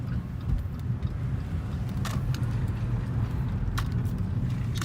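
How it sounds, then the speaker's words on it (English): A steady low motor hum and road rumble from a moving Fiat 500e electric car, with a faint higher front motor whine; a couple of light clicks sound over it. "You hear the front motor whine"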